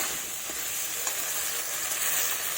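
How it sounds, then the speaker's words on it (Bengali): Small fish curry masala sautéing in a pan with oil, a constant close hiss and crackle of frying, with a few faint stirring scrapes. "তো আমার কষানো প্রায় হয়ে গেছে"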